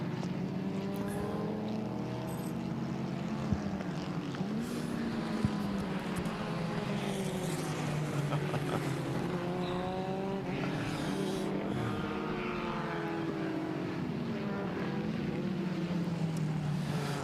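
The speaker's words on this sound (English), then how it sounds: "So we are on the final lap of the final race for the Patois Formula Libre." Formula Libre race cars, including an FF2000, lapping a circuit on a final lap, engine drones rising and falling as cars pass at a distance, layered and continuous, fairly faint.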